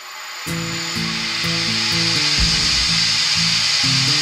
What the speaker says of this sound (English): To get the lathe running nice and quick